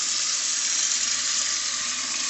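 Water pours steadily into a clogged double kitchen sink with a garbage disposal, a continuous close, hissing splash with no talk.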